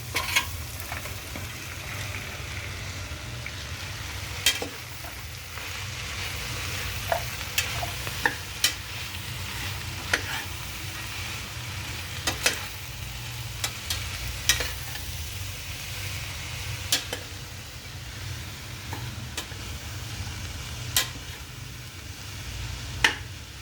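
Papdi beans frying in a pan with ground masala, a steady low sizzle with frequent sharp scrapes and taps of a spoon as they are stirred, with no voices.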